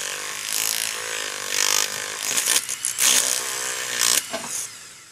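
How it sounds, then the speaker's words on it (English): A jeweler's rotary handpiece spins a split mandrel wrapped with sandpaper inside a ring, a high whining motor that rises and falls in pitch, with bursts of gritty grinding as it contacts the metal. "I'm just going to use a split mandrel on the handpiece, and I'm just going to spin that up on the inside of the curl."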